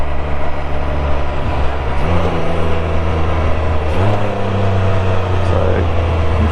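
A Can-Am Spyder three-wheeler cruises down an open road, its engine droning steadily with harmonic tones that step up as the rider shifts gears, wind noise rushing over the top throughout.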